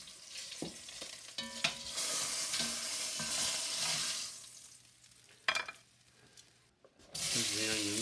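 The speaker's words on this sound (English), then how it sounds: "Here's the onions. I'm just going to soften them a little bit, a couple minutes." Onions soften in a hot pan that just browned lamb shanks, a close hiss of frying with stirring scrapes and knocks, fading quieter midway, then sizzling again.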